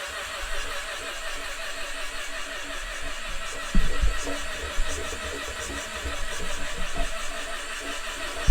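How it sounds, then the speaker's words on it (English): A Kawasaki Ultra 250x jetski engine, run dry of oil with the oil pump sucking dry, fires up and settles into a steady throbbing idle with a few louder thumps partway through. "it's sucking the oil pump dry. That's what that throbbing noise is"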